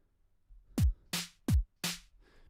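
Four sharp synthetic 8-bit drum hits in a steady ska pattern for a chiptune cover, kick-like thumps alternating with noisy snare bursts, clear and close with no talk.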